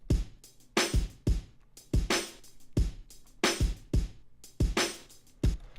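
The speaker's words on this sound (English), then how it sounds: "without the parallel processing, it sounds like this" A soloed drum loop plays dry without parallel compression, with steady punchy kick and snare hits and bright cymbal wash in a regular groove, fairly quiet and alone.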